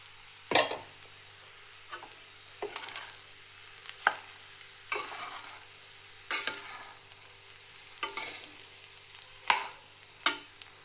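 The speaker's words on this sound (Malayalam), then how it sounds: "ചോറ് ഇട്ട് കൊടുത്തിട്ട് നമുക്ക് മിക്സ് ചെയ്ത് ചെയ്തെടുക്കാം ഇനി നമുക്കിതിലേക്ക് കുരുമുളക് പൊടിയും കൂടെ ചേർത്ത് കൊടുക്കണം" Egg rice with pepper powder stirred in a hot pan: a low background sizzle punctuated by repeated sharp scrapes and clinks of a spatula against the pan, roughly every second or two, close and without speech.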